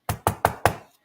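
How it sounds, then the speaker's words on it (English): Knuckles rap four times in an even rhythm on the body just above a maxi taxi window in Barbados, each knock sharp, close and clear, with no other sound around them. "the custom is to wrap your knuckles, making a knocking sound"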